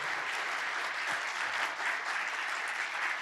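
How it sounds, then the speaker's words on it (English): An audience gives a sustained round of applause at the close of a history forum talk on American Indians and the American Dream, dense steady clapping filling the room for the whole stretch with no talk over it. "please join me in giving a round of applause and a thank you for her sharing her work."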